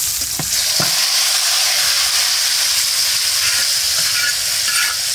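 Chopped garlic and onion fry in oil for a gourd-leaf dish, making a loud, continuous hissing sizzle with a couple of soft scrapes of stirring near the start.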